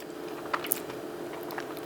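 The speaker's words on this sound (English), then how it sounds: "The breading, nice and crunchy." Teeth bite into crunchy breaded schnitzel, pounded thin and fried in beef tallow, making a few sharp, close crunches followed by soft chewing, with no talking.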